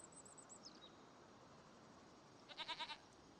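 Goats bleat faintly in Farming Simulator 25, a short quavering call near the end set against a quiet background of insect-like chirps, with a few small chirps at the start.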